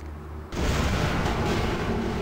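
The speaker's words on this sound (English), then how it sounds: "we don't want to be anywhere near that explosion" A sudden loud explosion in the vampire game Vampire: The Masquerade Bloodlines, starting after a quiet half second and rolling on as a dense, sustained roar of fire and debris with no voices.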